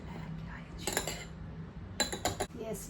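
A spoon stirs an aloe vera and rice hair mask in a bowl, making a few quiet clinks and scrapes in two short bursts over a soft background hum.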